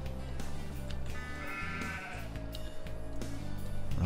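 Sheep in the video game Farming Simulator 2017 bleat loudly and repeatedly, wavering calls overlapping on top of a steady game music or ambient bed.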